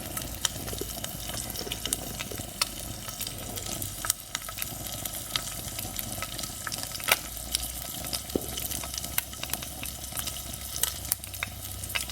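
An egg fries slowly in a pan over low heat, giving off a steady, fine crackling sizzle with scattered sharp pops, close and continuous with no talking.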